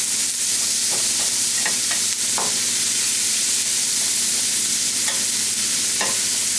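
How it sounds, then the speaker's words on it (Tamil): Onions frying in a pan over a high flame, a loud continuous sizzle with occasional stirring scrapes and clicks, close and alone with no talk. "கொஞ்சம் வெங்காயம் வதங்குற வரைக்கும் இருக்கட்டும். நான் அடுப்பை ஹை ஃப்ளேமில் தான் வச்சுருக்கேன்."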